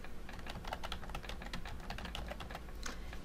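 Quick, irregular clicks of fingers typing on a computer keyboard, close and fairly quiet, keystrokes coming in short bursts with no talk.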